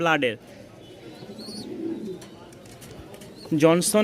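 Pigeons cooing at a busy pigeon market, a low bubbling coo close by, with sharper bird calls at the start and end and faint background noise throughout.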